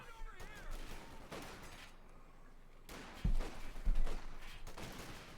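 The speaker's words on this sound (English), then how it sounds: "Panzer is firing again" Tank cannon and small-arms gunfire from a Company of Heroes 2 battle, with a Panzer among the tanks, heard as a scattered fusillade of moderately distant shots and a couple of heavier booms near the end.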